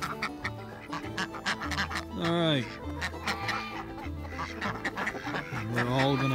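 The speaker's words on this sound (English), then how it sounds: "let me go ahead and get through the group of chickens and ducks" A backyard flock of ducks and chickens quacks and clucks in bursts at close range, with a person's voice talking over them.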